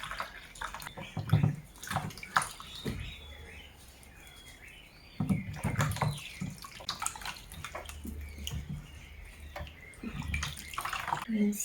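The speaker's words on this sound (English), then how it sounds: "So I'm going to wash my carrots." Two carrots, one large and one medium, are rinsed by hand under running water in a village kitchen, giving splashing and trickling in bursts with a brief quieter lull. Birds twitter faintly in the background.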